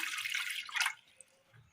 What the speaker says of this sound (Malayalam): അടുപ്പത്തൊരു ചട്ടി വെച്ച് കൊടുത്തതിന് ശേഷം അതിലേക്ക് അല്പം വെള്ളം ഒഴിച്ചു കൊടുക്കാം